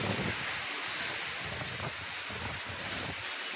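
Strong wind blows hard outdoors, making a constant roaring rush with gusty buffeting against the microphone and no voices.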